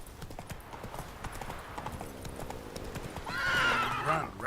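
Roach the horse in The Witcher 3: Wild Hunt, a rapid clip-clop of galloping hooves that ends in a loud, clear neigh near the close.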